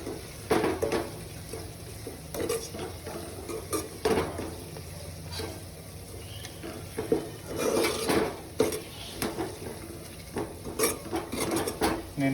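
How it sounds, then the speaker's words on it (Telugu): Curry leaves and mint being fried in oil in a pan while making a fish curry, with steady sizzling and repeated clinks and scrapes of a utensil against the pan, close and clear with no talking. "అలాగే పుదీనా వేసుకొని మంచిగా వేయించుకోవాలి"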